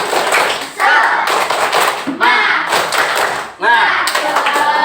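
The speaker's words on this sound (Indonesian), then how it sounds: "Baik, tepuk semangat." A classroom of fourth-grade pupils performs a rhythmic spirit clap, bursts of clapping and tapping in short patterned phrases, with chanting voices running over the claps.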